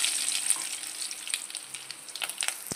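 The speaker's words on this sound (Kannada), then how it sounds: "ಇವಾಗ 3 ಟೇಬಲ್ ಸ್ಪೂನಷ್ಟು ಎಣ್ಣೆ ಹಾಕಿದ್ದೀನಿ. ಅದೇ ಬಾಣಲಿಗೆ ಸಾಸಿವೆ, ಜೀರಿಗೆ" Mustard seeds and cumin frying in about three tablespoons of hot oil in a pan, a steady close sizzle with scattered pops and crackles, ending with a sharp spit.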